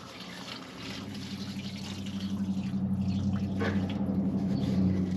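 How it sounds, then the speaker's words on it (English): Gasoline pours steadily from a faulty Coleman MB4 carburetor into a drain pan, a continuous close trickling and splashing stream that grows slightly louder over the span. "a lot more gas pouring out of it. Good thing I got a drain pan here"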